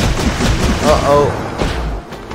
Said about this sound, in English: Exploding again.